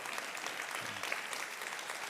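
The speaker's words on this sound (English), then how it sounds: "Let's give him a round of applause for that." Audience applause at a faith and support event, a steady wash of many hands clapping at moderate level throughout, with no talk over it.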